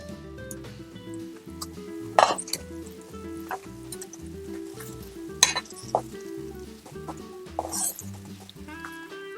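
Chicken goes into cooked tomato puree in a pan, bringing a steady oily sizzle with wet squishing and stirring sounds and a few sharper clanks, close and moderately loud, with background music underneath.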